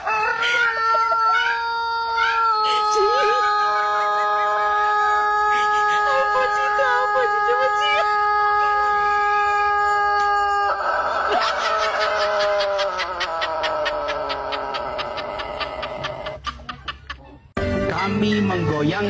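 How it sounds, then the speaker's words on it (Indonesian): A rooster crows in long, drawn-out calls, loud and close, with a stretched final crow that breaks off sharply; other sounds and speech-like noise blend in beneath it near the end. "Ayam kalau berkokok, matanya ditutup."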